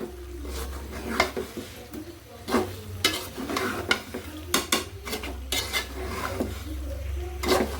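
A jujube and tamarind mixture is being sautéed in a pan. There is a steady frying hiss and repeated sharp clinks and scrapes of a spoon against the pan, close and fairly loud, with stirring bursts every second or so.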